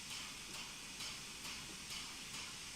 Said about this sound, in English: There's steam ejector. Large ejector.